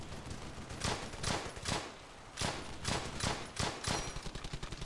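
Rifle and machine-gun fire rattles in the World War II shooter Brothers in Arms: Hell's Highway, with repeated sharp bursts and pauses between them, loud and close.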